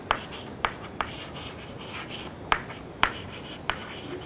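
Marker or chalk writing on a board during an engineering lecture, a short run of sharp taps and squeaky strokes spaced irregularly, close and fairly loud, with no talking.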